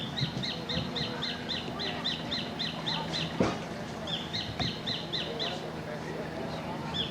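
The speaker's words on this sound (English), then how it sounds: "And then there are birds over there." Birds in a tropical Asian forest habitat give rapid, repeated chirping calls in quick rhythmic bursts, heard at moderate distance under a steady background murmur of voices.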